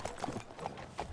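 Horse hooves clip-clop at a steady walking pace in the Red Dead Redemption 2 game world, a few soft, evenly spaced thuds heard faintly over a low background hum.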